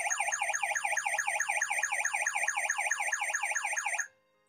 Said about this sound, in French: Et là, l'alarme s'est allumée.